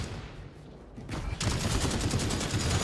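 Gunfire rings out in the video game Synced: after a quieter opening second, a loud, steady stream of rapid automatic shots fills the rest of the clip.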